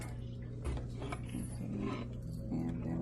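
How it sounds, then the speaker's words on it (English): A sewing machine runs a seam in bursts, stitching forward, briefly reversing to back stitch, then continuing, with a steady mechanical whir and ticking close by on a skirt with a waistline facing. "I'm going to stitch few stitches and then back stitch, and then continue stitching until I finish the whole seam."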